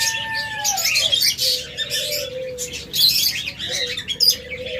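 Many small pet birds such as budgerigars, cockatiels and lovebirds chirp and tweet busily together at close range, with some longer whistled calls and a soft coo underneath; no voices.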